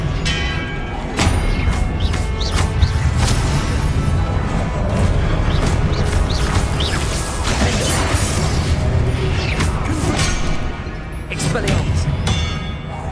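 Expelliarmus spell cast during combat in the video game Hogwarts Legacy, amid a busy run of magical bursts, crashes, booms and pinging impacts, with a voice talking over the action throughout.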